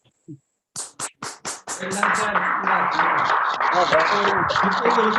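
A small audience claps in encouragement for a talk given by a former army man: a few sharp separate claps at first, then a dense, steady round of clapping under a voice speaking over it.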